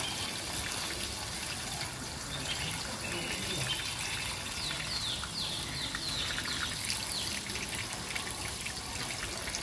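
Water trickles and splashes gently as it is poured onto plants in a garden, a soft continuous dribbling with birds faintly in the background and a voice talking over it.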